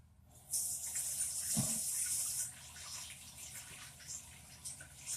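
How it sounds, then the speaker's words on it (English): Tap water runs steadily for about two seconds while hands are washed after making rice milk, a bright hissing splash near the sink that then cuts back to a quieter room. "Let me wash my hands."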